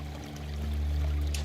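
Steady rushing of water pours continuously in the video game Replaced, a smooth flowing stream growing slightly louder, heard alone with a low hum beneath.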